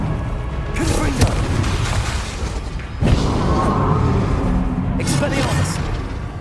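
Confringo spell blasts in the Hogwarts Legacy video game, heavy booming explosions with rumbling impacts, a louder burst midway, amid continuous loud combat noise.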